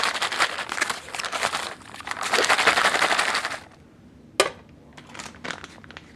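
A US military cold weather meal drink mix container is shaken hard, a dense rattling of powder and liquid in quick bursts for about four seconds, then a sharp knock and lighter shakes.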